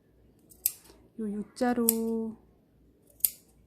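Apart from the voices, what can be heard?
scissors snipping notches into seam allowance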